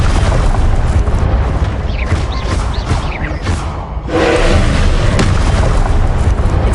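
Confringo and Incendio spell blasts in Hogwarts Legacy on PS5, a dense run of booming, crackling fiery bursts that hit loud and close one after another with hardly a pause, under shouted spell names.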